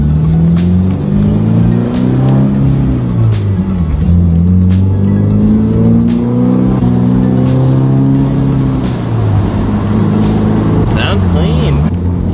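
A Subaru BRZ ZD8 fitted with a full titanium dual muffler, loud and close, revving up and shifting through gears several times with a rising and falling exhaust note.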